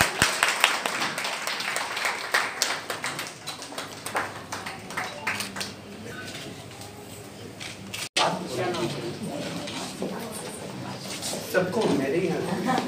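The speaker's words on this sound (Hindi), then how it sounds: "कृपया तालियां बजाते रहें।" Audience applause at an International Women's Day celebration hosted by Kinnar Akhara, with scattered claps running under steady talk and crowd noise, dipping briefly before the clapping and voices pick up again.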